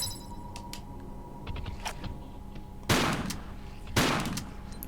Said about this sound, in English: shoot that spider to blow it up